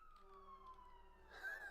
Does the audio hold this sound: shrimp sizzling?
no